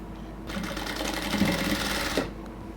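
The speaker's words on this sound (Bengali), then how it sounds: "এবার হচ্ছে আমরা সাইডটাকে স্টিচ করব।" A sewing machine stitches the side seam of a cotton dress, running in one steady, fast whirring burst of under two seconds between quiet moments.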